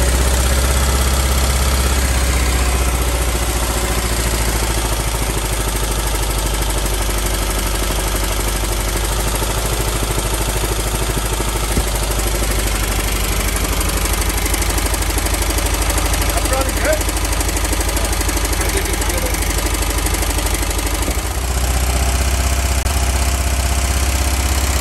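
An old bus engine idles steadily, its low drone constant and fairly loud throughout, with people talking nearby over it.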